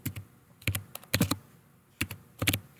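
Keys clatter on a computer keyboard in short bursts, crisp close-up clicks grouped in quick runs separated by brief pauses, clear and isolated with no talking.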